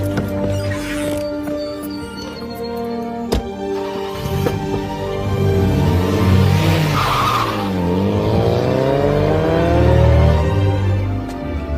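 A car driving off and skidding, the engine revving and rising in pitch while tires squeal and screech in sweeping waves, loud and close over several seconds.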